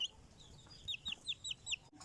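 A chicken on a Lao farm gives a quick run of sharp, high clucks in a steady rhythm, close by and moderately loud over a soft outdoor background.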